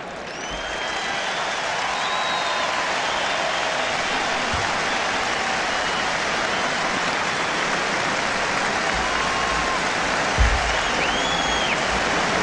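A college football stadium crowd at Oklahoma versus Nebraska applauds steadily as an injured player gets up, a broad, dense wash of clapping that holds at a constant level throughout.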